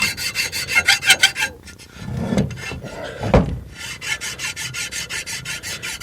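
A hand file rasps in quick rhythmic strokes across an aluminum Ford 8N pump part to flatten it, then slower rubbing and polishing passes with a couple of clunks, close and with no talk.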